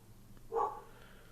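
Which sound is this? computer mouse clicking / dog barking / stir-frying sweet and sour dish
dog barking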